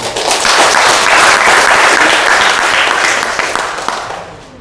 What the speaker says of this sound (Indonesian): Coba tepuk tangan.